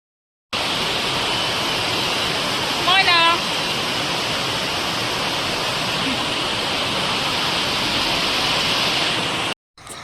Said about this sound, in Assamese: ৰ'ব বৰষুণৰ মাত শুনক